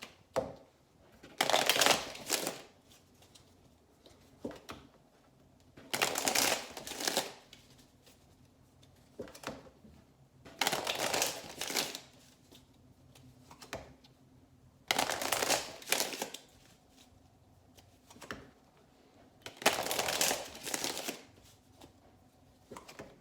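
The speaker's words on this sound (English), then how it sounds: "Two more shuffles." Tarot cards riffle-shuffled in five separate bursts, each a few seconds apart, close and crisp with quiet pauses between.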